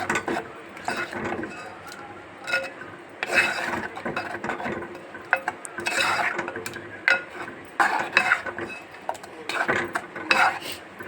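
Curd being stirred into pulissery made with sweet mango in a pot, with a spoon scraping and clinking against the metal in uneven bursts and brief pauses between them.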